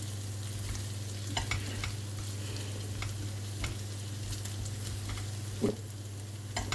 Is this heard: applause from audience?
no